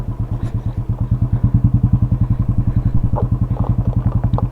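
A motorcycle ridden along a trail on a day trip gives a loud, close, rhythmic chugging engine pulse that rises and falls, with faint clatter over it and no speech.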